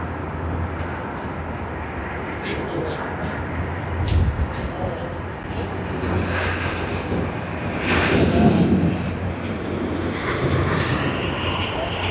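A Philippine Airlines A330-300 takes off at Sydney Airport, its jet engines a steady, distant broadband roar that swells slightly around the middle and holds to the end.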